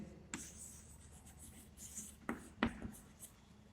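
Marker or chalk strokes on a classroom board during a physics lesson, a series of short scratchy scrawls with a few sharper taps, close and fairly quiet.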